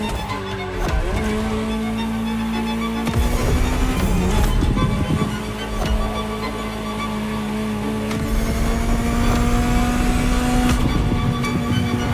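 A Ferrari supercar engine roars in the racing video game The Crew Motorfest, a loud, sustained drone with rising and falling revs across gear changes, close and continuous with no talk over it.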